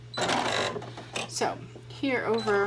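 A Baby Lock Soprano sewing machine starts up in short bursts of mechanical whirring and clatter while a person talks over it, with a steady background hum.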